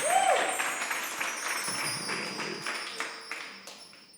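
Congregation in a Panamanian church applauding, a soft continuous patter of many hands that slowly fades, with a faint brief tone near the start.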